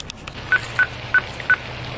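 Four short phone keypad tones, evenly spaced, as a gate code is punched in on a telephone, clear and close against a quiet background with no talking.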